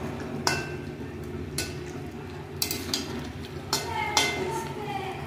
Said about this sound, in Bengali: এটা কাটা চচ্চড়ি বেশি হালকা হাতে নাড়তে হবে।